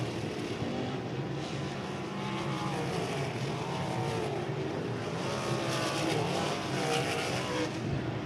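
Sprint cars, including a Buick-powered 360, race around a speedway in a steady distant engine roar with overlapping whines from several cars, moderately faint throughout.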